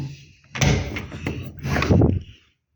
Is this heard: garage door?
yes